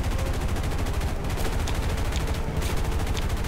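Gunfire in a War Thunder tank battle, dense and continuous bursts of rapid shots blending into a loud, sustained rattle.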